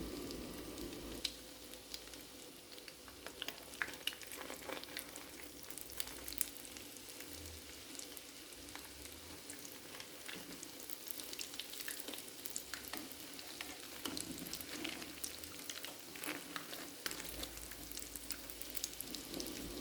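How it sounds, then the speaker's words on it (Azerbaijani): Bilinchik pancakes fry in a pan with a continuous soft sizzle and light crackling, quiet and even throughout, with occasional faint stirring or handling. "Bu qayda ilə bilinciklərin hər üzünü yaxşıca bişirirəm."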